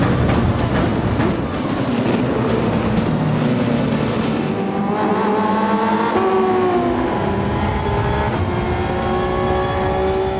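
A race car in Gran Turismo roars loudly and continuously, its engine revving and shifting through gears as it accelerates, with pitch sweeps rising and falling through the run.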